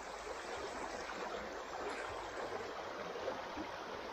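A river being crossed on foot, its water rushing in a steady broadband wash that holds even and unbroken throughout, with no voices over it.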